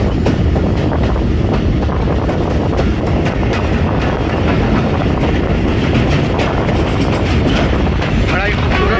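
Pakistan's old Khyber Mail passenger train rolls along, a loud, continuous rumble and rattle of carriages with wind buffeting close to the microphone throughout.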